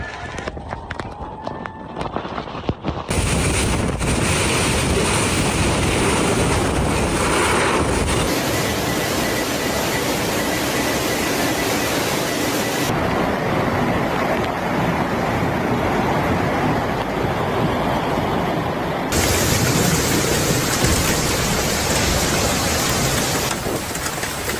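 A violent wind storm with heavy rain in Dalaman, Türkiye, roars as dense, unbroken broadband rushing and buffeting against the microphone for the whole stretch, loud and steady with shifting gusts and no talk.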